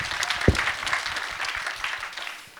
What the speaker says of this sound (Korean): 박수 한번 크게 한번 쳐주세요